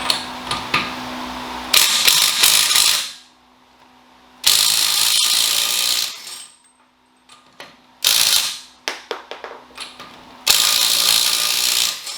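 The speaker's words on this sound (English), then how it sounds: "we're going to take off the driver's side wheel" A ratchet works to remove the driver's side wheel of a 2016+ Mazda Miata ND. It sounds in several close bursts of rapid clicking, with short quiet gaps between them, and no one speaks.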